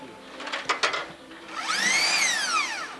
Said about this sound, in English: Run the drill with it, then you won't burn it up.